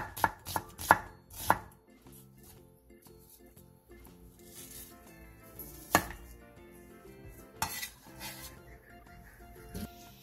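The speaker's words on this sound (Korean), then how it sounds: "양파 2분의 1개를 얇게 채 썰어주세요" A knife thinly slicing half an onion on a cutting board, sharp chopping taps in quick clusters with pauses between, close and clear with no talk.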